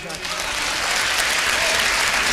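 The crowd at a Hindi kavi sammelan poetry recital bursts into dense, loud clapping that swells and holds steady for a couple of seconds.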